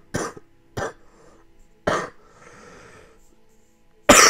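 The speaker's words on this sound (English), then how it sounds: "Hold on, I'm gonna cough." Three sharp, close coughs come in quick succession from a person at a computer, followed by quiet breathing and a final louder burst.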